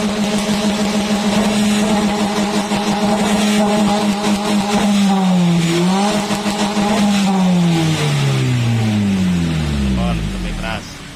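A Toyota Calya's engine revs loudly through an aftermarket racing exhaust fitted with a coarse filter, holding a steady roar before the revs climb, dip and wind down to idle near the end, close up with faint talk underneath.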